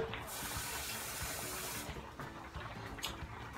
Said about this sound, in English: Then we're just gonna add some water.